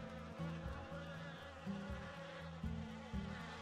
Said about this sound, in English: I hear flies.